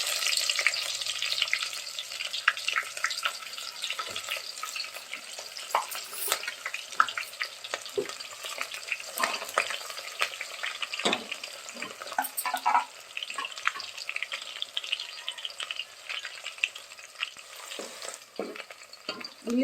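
Onions fry in a pan for a bagara dish, giving a steady, close sizzle with scattered scraping and stirring knocks throughout and no talking.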